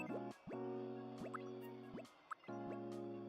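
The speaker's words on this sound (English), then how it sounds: "I hear water running, but there's nobody in there" Cartoonish water sounds in the Tomodachi Life video game, a series of bright repeated liquid drips and gurgling fills recurring at a steady pace, clean and close with nothing else over them.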